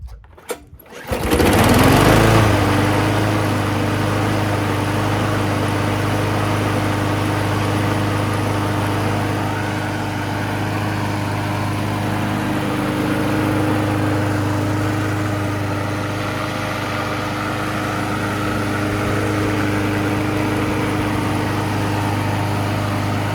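A Craftsman lawn mower with an old Briggs & Stratton Quantum engine on a replacement carburetor starts up and then runs steadily and loudly at a constant droning pitch for the rest of the stretch, with no talking.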